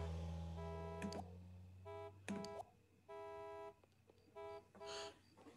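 A car horn honks repeatedly in short, evenly spaced electronic toots from the video game The Sims, quiet and slightly synthetic in tone.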